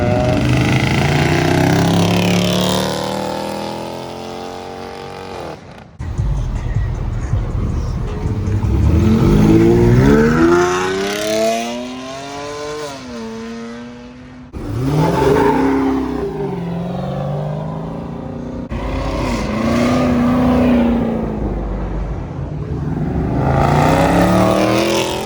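A 1000+ horsepower Toyota Supra leaving a car meet, its engine revving hard in rising, sweeping pulls with sharp cuts between bursts, loud and close, repeated several times.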